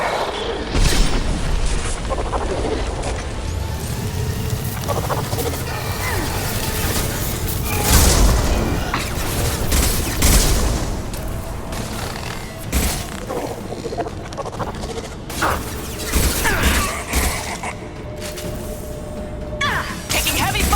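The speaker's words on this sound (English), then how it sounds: "Taking heavy fire!" Sustained heavy gunfire and crashing impacts fill a Mass Effect 2 sci-fi firefight aboard a crippled Collector ship, dense and loud throughout with repeated booms, shattering and whooshes, and voices shouting over the combat.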